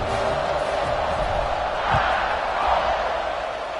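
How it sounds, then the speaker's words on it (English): Stadium crowd in a football video game, Arkansas on the field after a score, a steady broad buzz of many voices with a brief swell near the middle, continuous and filling the background. "this crowd is buzzing after that last score"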